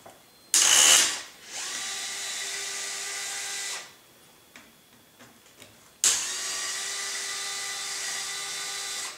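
A power drill or electric screwdriver removing screws from the tail boom area of a Trex 700E PRO DFC RC helicopter, two close whirring bursts of motor spin separated by a short pause with small clicks.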